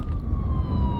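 An ambulance siren passes outside, a steady wailing tone sliding slowly downward over a loud rumble of traffic or wind noise.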